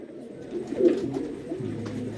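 A single Golden Eye Kaladana female pigeon gives a short, low throaty coo close by, rising briefly then fading into quiet murmuring.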